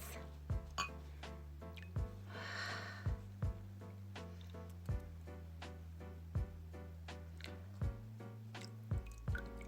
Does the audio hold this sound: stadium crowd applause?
no